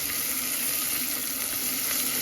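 Garlic and onion frying in a pan for a Gujarati-style biriyani, a steady, close, loud sizzle that holds constant without any talk.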